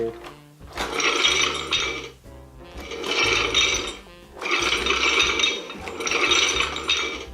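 Loud, rapid mechanical clicking and rattling in four bursts separated by brief pauses, a Hasbro Infinity Gauntlet toy mechanism ratcheting through its motion.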